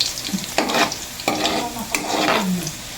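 Garlic frying in a pan for squid adobo, with a steady close sizzle broken by several bursts of stirring and scraping.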